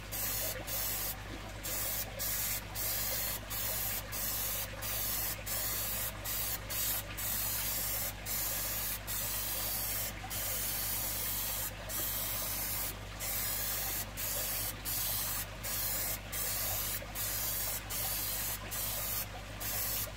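A spray can of paint hisses steadily and loudly at close range, broken by short pauses as the nozzle is released and pressed again.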